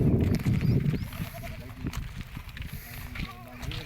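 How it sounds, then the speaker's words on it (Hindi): Buffaloes, cows and goats tied up in a muddy village yard in Sindh, Pakistan, with a brief bleat rising under loud, close talking and general farmyard noise. "भैंसे गाय बकरियां"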